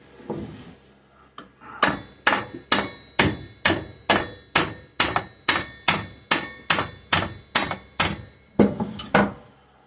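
Hammer blows on a Homelite XL12 chainsaw: after a brief quiet start come about sixteen sharp, ringing metallic strikes in a steady, even rhythm, close and loud.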